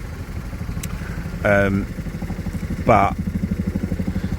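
Fiat 500 TwinAir two-cylinder engine idling close by, a steady uneven chugging pulse that runs throughout, with two short bursts of speech over it.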